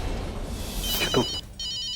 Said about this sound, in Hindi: ये तो बुलबुल का फोन है।